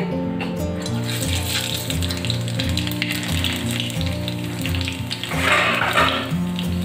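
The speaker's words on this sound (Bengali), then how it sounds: "তেলের মধ্যে দিয়ে দিচ্ছি কালো জিরে" Black cumin seeds hit hot oil in a pan for a Bengali eggplant and cauliflower-stalk chorchori, giving a steady, hissing sizzle that runs under background music throughout.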